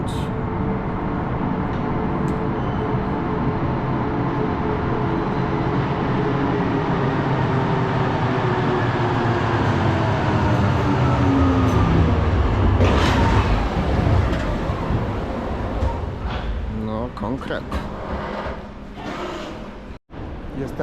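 A Kraków fast tram on line 5 rumbles past a tram stop in a long, loud, continuous roar that swells toward the middle and then fades slightly, with some talk in the background.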